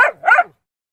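A dog gives two quick, loud barks close by, the second a bit longer and yelping, with nothing else heard around them.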